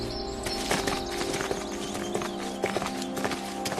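Horse hooves clip-clopping in a steady walking rhythm as the horse is ridden under a saddle blanket, fairly close, with some background clutter.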